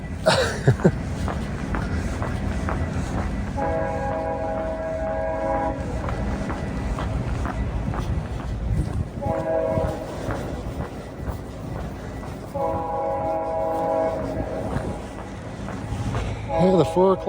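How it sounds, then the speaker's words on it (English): A GO commuter train passes through historic downtown Newmarket, its rumble steady while the horn sounds in several long blasts, loud and close, with brief talk at the start. "Oh, the 4 o'clock GO train."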